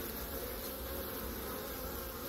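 Honey bees hum in a dense, continuous buzz at a hive entrance as foragers return with pollen, steady and fairly close with no voices.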